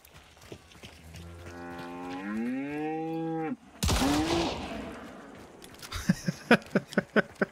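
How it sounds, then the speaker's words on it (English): A cow lets out a long, drawn-out moo in a video game, followed by a burst of loud noise and a quick run of sharp gunfire-like pops, with faint talk underneath. "Cow."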